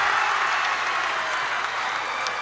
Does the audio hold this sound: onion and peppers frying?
no